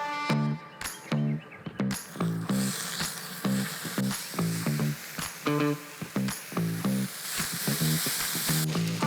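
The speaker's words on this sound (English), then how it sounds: "We're gonna throw some bacon on and start cooking." Bacon sizzles on a freshly seasoned griddle, a close, steady crackle running under loud rhythmic background music with pulsing tones.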